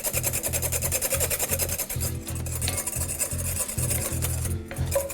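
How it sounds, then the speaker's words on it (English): A whisk works butter into a sauce in a pan, making quick, rhythmic scraping and swishing strokes that repeat steadily at close range. "Give it a good whisk again."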